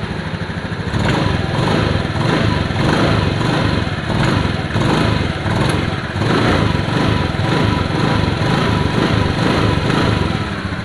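A motorcycle engine runs loud and close while the throttle is opened in repeated pulses during a TPS sensor check, giving a rhythmic rise and fall of revs over a steady idle, with no talking.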